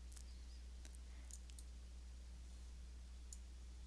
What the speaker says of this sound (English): If we click on the function button